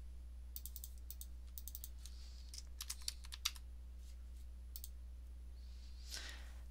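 Quick bursts of computer keyboard typing, soft and close, come in short clusters separated by pauses over a steady low electrical hum, with a brief rustle near the end.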